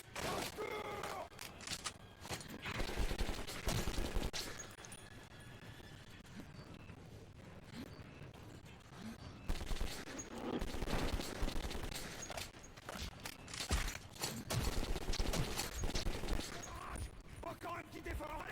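Repeated bursts of gunfire from the video game Metro 2033, dense volleys sounding loud and close across the clip and mixed with game effects, with shouted voices breaking in between.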